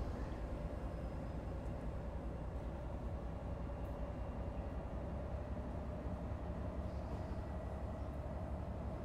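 A train in a railway simulator game rumbles steadily with a low, continuous drone and a faint tonal hum throughout, alone without talk.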